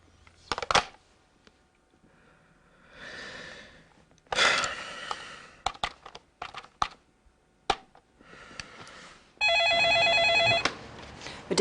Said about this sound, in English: Now, he's going to make a phone call.